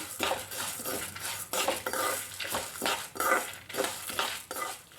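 Urad dal and chillies, with a few curry leaves, dry-roasting in a pan for chutney powder while a spoon stirs and scrapes steadily, producing repeated close metallic scraping strokes over a faint sizzle.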